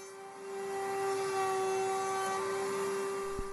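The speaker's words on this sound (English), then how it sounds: "now I'll just use a 1/4 inch roundover to round off some of these edges on these boards" A router in a router table cuts a 1/4 inch roundover along the edges of wooden boards, a steady loud high-pitched motor whine that holds throughout, with a brief thump near the end.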